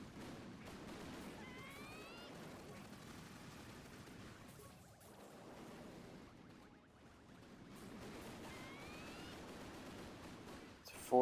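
Boom cannons in the Boom Beach mobile strategy game fire in rapid, repeated volleys, faint and distant, rattling on continuously with a short lull in the middle.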